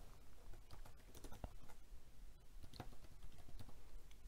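Keys clatter on a computer keyboard as a name is typed, a steady run of close, light clicks with brief pauses and a few sharper taps.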